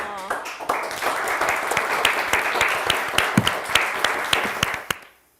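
A studio audience on the Turkish word game show Kelime Oyunu breaks into loud, dense applause that holds steady for several seconds before cutting off abruptly.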